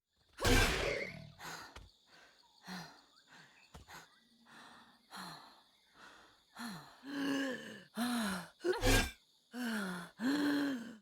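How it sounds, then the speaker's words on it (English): A string of heavy, breathy gasps and strained exhales from a video game character, some voiced like groans, looped by health level, repeating in a loose rhythm and growing louder toward the end. "Each breathing sound was looped and assigned to its corresponding health level."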